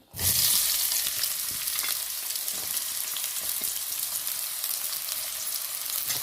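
Onions frying in oil in a pan for a vegetable korma, a loud steady sizzle that bursts in as they hit the oil and keeps hissing evenly throughout, with no talking.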